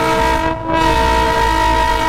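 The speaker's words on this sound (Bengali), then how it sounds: "আর ওই দেখো টয় ট্রেন" A toy train passes through traffic-jammed streets in Siliguri, heard as a steady, loud horn-like tone held throughout, with train rumble and street noise beneath.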